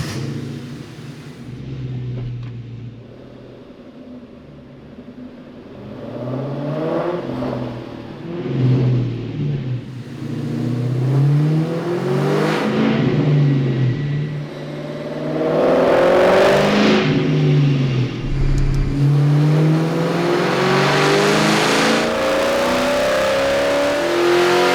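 A restored 2004 Ford Mustang GT V8 revving through a dyno pull in fourth gear, the engine note climbing steadily in pitch and loudness over about twenty-five seconds and holding a loud, sustained roar toward the end.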